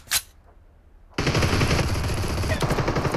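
Pistol gunfire in a team-match shooting video game: a faint pop, a short lull, then a loud, continuous rapid barrage of shots.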